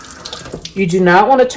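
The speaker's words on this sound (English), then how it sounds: "I'm gonna turn my cold water on, not high." Cold water running at low pressure from a kitchen tap over a strainer of tomato seeds, a steady close splashing flow with a voice briefly sounding over it toward the end.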